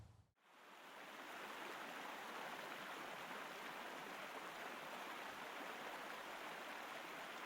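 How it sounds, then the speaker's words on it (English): Kern River flowing at the eastern edge of Bakersfield, a dense, steady rush of water that starts after a brief dip and then holds constant and close for several seconds with no voices. "The Kern River cuts through the eastern edge of Bakersfield, flowing down from the Sierra Nevada before reaching the valley floor."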